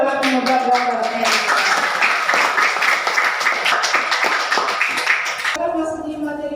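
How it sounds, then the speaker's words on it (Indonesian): An audience claps steadily in a classroom or training session, sustained applause with a voice talking over part of it before fading out near the end. "aplaus kepada semua yang telah menebak gambarnya"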